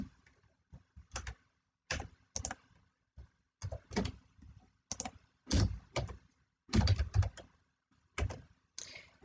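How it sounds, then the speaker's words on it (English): Keys clatter on a computer keyboard as text is deleted with backspace and a new display name is typed, irregular bursts of close clicking taps separated by short pauses. "all you need to do is basically backspace that and type in the display name that you want"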